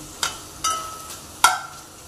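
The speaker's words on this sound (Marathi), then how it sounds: "हे एका साईडने फ्राय झालं की ह्याला परत उलटून घ्यायचं।" Chicken pieces for butter chicken in a pan, with three sharp clinks and scrapes of a utensil over a soft background hiss, no talk.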